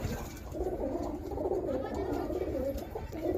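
Teddy-breed pigeons coo nearby in soft, repeating low burbles that keep going throughout, with faint human voices in the background.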